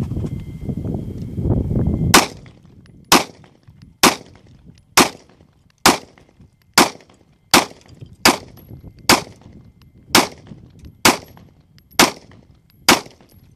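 A Beretta Px4 Storm Compact 9mm pistol fires at clay targets outdoors: about thirteen sharp, loud shots at a steady pace of roughly one per second, each with a short echo, after a brief stretch of rustling.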